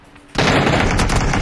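Rapid automatic gunfire from a PUBG match bursts in loud and dense after a brief quiet lead-in, then continues as a sustained rattling volley to the end.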